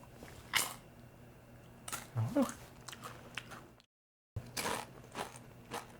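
Crisp crunching bites of a snack close up, a few separate crunches with brief pauses, mixed with murmured voice sounds.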